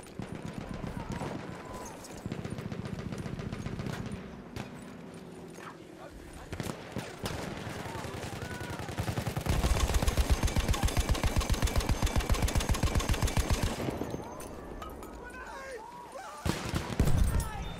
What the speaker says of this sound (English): Man, bullets flying everywhere.